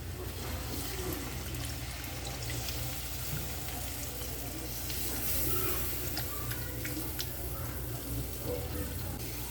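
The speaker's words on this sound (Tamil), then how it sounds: "புளி வந்து ஏற்கனவே ஊற வச்சுட்டேன், அதை வந்து இதில் கரைச்சி இப்போ ஊற்றிக்கலாம்." Soaked tamarind water is poured into a pan of South Indian fish curry (meen kuzhambu), giving a steady trickling splash over a soft background sizzle that lasts throughout, with no talking.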